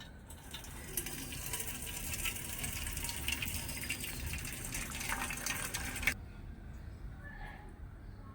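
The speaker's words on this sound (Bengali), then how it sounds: "এবারে ভাতের মারটা আমি ঝরিয়ে নেবো" Starchy water drained off boiled rice for a vegetarian biryani: a steady, close rushing gush of liquid for about six seconds, then it cuts off abruptly, leaving faint trickles and quiet.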